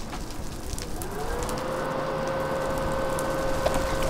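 Steady rain patters in Minecraft 1.7.2, a soft continuous hiss of drops that holds evenly throughout with a faint tonal hum underneath.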